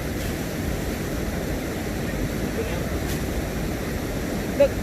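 Water in a stream where shrimp are being scooped in Korea rushes steadily and strongly, a constant close broadband wash with a faint wind-like rumble and no clear talk over it.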